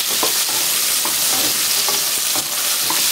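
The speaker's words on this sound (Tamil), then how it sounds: "இது எல்லாமே நல்லா வதங்கணும், சின்ன வெங்காயம் நல்லா வதங்கணும்." Small shallots and garlic sautéing in a pan for chutney, with a loud steady sizzle and occasional scraping stirs close by, no talking.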